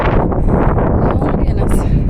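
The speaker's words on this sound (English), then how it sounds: "This wind is whipping today" Strong gusting wind roars steadily across an outdoor Japanese garden, buffeting the microphone with continuous low rumble and brief rustling swells.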